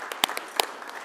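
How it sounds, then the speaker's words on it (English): A few scattered hand claps at a city council meeting, sparse and irregular, quiet and nearby, with only a handful of people joining in. "So we'd like to give you a round of applause and thank you for everything you do for Shakopee."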